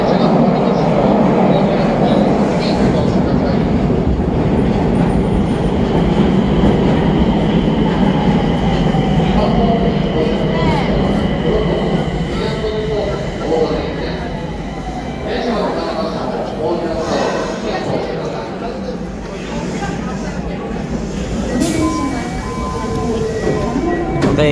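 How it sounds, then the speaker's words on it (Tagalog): A train rumbles steadily nearby with low mechanical noise and faint rail squeals, while people talk over it in a busy Nagoyajo Station in Nagoya, Japan. "So guys, ayun na yung tren."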